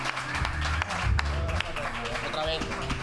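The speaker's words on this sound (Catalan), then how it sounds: "I vull demanar un aplaudiment per al seu creador." Applause for the creator of a poster at an awards segment, a short burst of steady, moderately loud clapping from a small crowd, with a voice talking over it.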